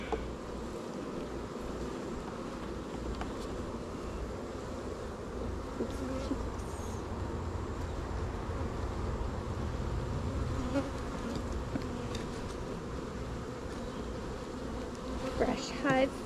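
A steady, dense swarm of honeybees drones continuously around an opened hive during a honey harvest, loud and close throughout with faint wind rumble.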